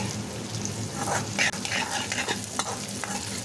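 Chopped onion and grated coconut sauté in a pan over a medium flame for a chicken curry, a steady soft sizzle with repeated scraping stirs of a spoon close by.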